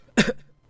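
A single short, sharp cough bursts out close and clear, followed by silence.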